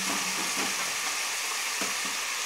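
Vegetable biryani ingredients are stirred together in a pot, giving a steady close frying hiss and sizzle with faint scraping movements and no speech.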